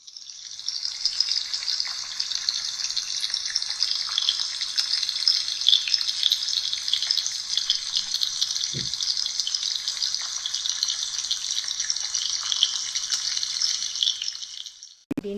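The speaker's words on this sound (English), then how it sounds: "my wife is frying the bananas one by one and let it get fried." Banana slices fry in hot oil for Kerala pazham pori, making a bright, even frying hiss that holds steady for about fifteen seconds, broken once by a brief knock, with no speech.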